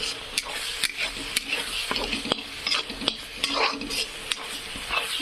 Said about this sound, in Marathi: तर छानपैकी असं मस्त तळून घेऊ.